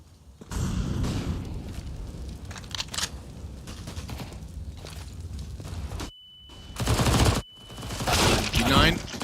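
Rapid gunfire during a professional Counter-Strike match at IEM Katowice 2023, bursts of shots and impacts in repeated clusters, loud and close, with commentators talking over much of it.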